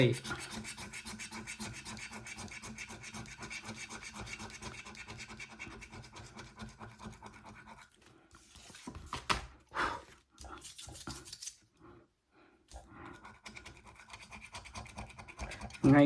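A French scratch-off lottery ticket being scratched with steady, close rasping strokes that run continuously, then break into short scattered scrapes and pauses before the scratching resumes.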